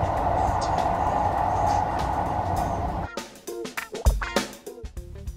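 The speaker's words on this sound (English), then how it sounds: "We're taking the metro to Watts." A Los Angeles Metro train heading to Watts gives a steady low rolling rumble, then sharp clanks and rattles of the carriage, heard from inside the car.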